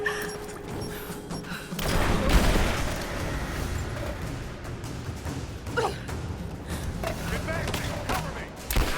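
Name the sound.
grenade explosion and gunfire in the video game Rise of the Tomb Raider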